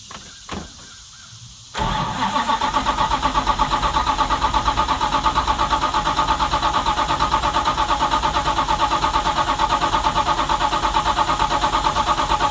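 A 1970 Dodge Charger with a 640 hp Mopar stroker engine, after sitting for a long time, gives a couple of brief clicks, then a loud, steady, rhythmic cranking churn that keeps going for about ten seconds.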